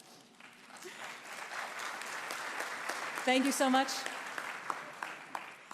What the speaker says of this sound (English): But first, applause for me and for all these announcements.